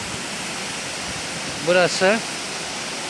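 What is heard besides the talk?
Karasu waterfall in Düziçi, Osmaniye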